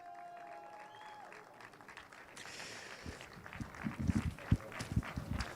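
Applause from a crowd at a GT Winter Series race podium ceremony at Portimão, starting faint and building into a fuller spatter of clapping over the last few seconds, with no voices heard.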